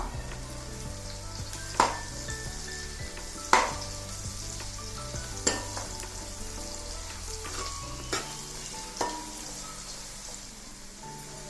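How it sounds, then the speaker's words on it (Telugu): Curry leaves frying in hot oil with cumin powder for a fish pulusu, a soft continuous sizzle with a few sharp spattering pops, quiet and without talk. "కొంచెం కరివేపాకు వేసి కొంచెం వేగనిద్దాం."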